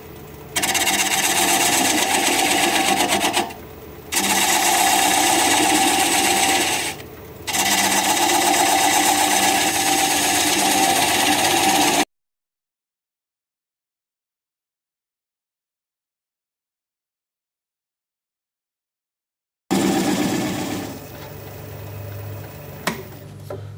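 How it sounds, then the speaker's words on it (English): A wood lathe spins an out-of-balance bowl blank at about 500 RPM while a 5/8 or half inch standard grind bowl gouge cuts away the tenon, giving a loud, steady rasping hum with two brief breaks, then quieter scraping after a gap. "I'll take a 5/8 or a half inch standard grind bowl gouge and"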